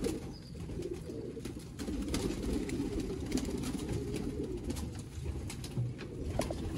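Pigeons coo steadily in a low, throaty murmur, a continuous layered cooing from several birds close by with no talking.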